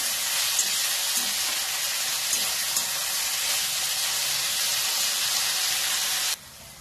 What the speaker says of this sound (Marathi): आता शेंग चांगली भाजून घ्यायची.